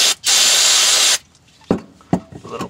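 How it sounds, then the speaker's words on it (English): A can of brake cleaner sprays onto a Chevy Tahoe rear wheel hub during a bearing replacement, one loud hiss lasting about a second, followed by a few sharp clanks and knocks. "A little brake cleaner."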